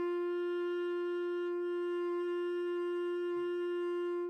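Beginner clarinet holding a single long, steady G, a clear pure reedy tone sustained for several seconds, close and alone with no talking.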